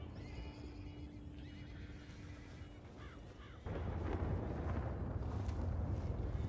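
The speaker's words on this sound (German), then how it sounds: "Die Pferde rasten auch schon aus." Horses neigh and whinny in a Red Dead Redemption 2 storm, with a loud rush of wind and rain that swells partway through and buries the calls in dense noise.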